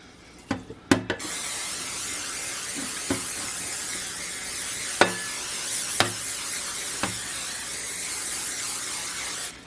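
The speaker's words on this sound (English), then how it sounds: "I'm going to take my sheet pan and spray it." A long steady hiss of cooking spray onto a sheet pan runs nearly continuously, with a few sharp clicks and taps at the start and scattered light knocks throughout.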